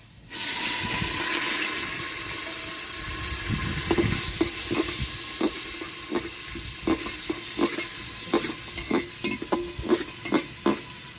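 Chopped onions fry and sizzle in a pan for meat khichuri, a steady close hiss running throughout with a series of sharp scraping stirs in the second half.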